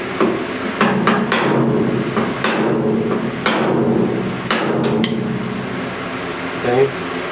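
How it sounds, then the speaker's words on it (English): A ball peen hammer strikes against a dolly on a dented car body panel, giving sharp metallic clinks at an irregular pace over steady shop noise, with a voice speaking occasionally in the background. "that's what we got a hammer and dolly for"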